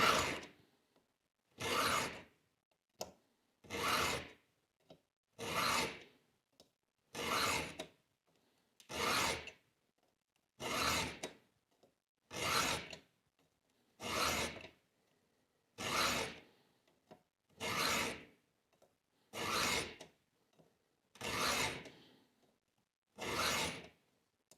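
A chainsaw chain is hand-filed in slow, even rasping strokes, each close and distinct, with short pauses between them. About a dozen strokes repeat in a steady rhythm, and no one speaks.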